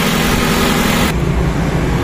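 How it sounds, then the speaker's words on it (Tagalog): A Toyota car engine idles steadily and close by during a radiator and engine block flush. Partway through, the brighter hiss cuts out while a low rumble lingers as the engine is switched off. "pero patayin muna natin yung makina mga kadeway kasi okay na po yan"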